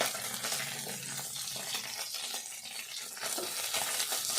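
Small fish frying in oil in a pan over a low flame, a steady loud sizzle with the scrape and clatter of stirring throughout, no voices.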